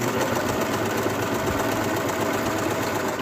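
A sewing machine stitches plush fabric against the grain in a steady, close, continuous motor whir with rapid mechanical rattle and no talking.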